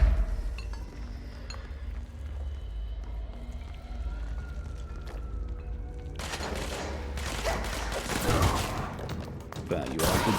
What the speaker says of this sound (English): Just fired 6 bullets, did nothing but air.